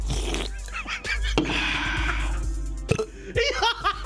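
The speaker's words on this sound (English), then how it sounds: "And I burped." A man burps after drinking an energy drink, a loud, close, drawn-out belch that follows a quick laugh and is itself followed by more laughter and snickering.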